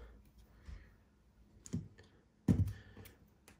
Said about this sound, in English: just using a sharp set of scissors